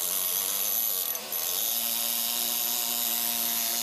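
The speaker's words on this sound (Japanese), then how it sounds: "これは空気圧を利用して振動を起こし石を削る道具。" An air-powered vibrating chisel carves layered building stone into a large sculpture, giving a steady, dense mechanical buzz that runs without a break, apart from one momentary dip.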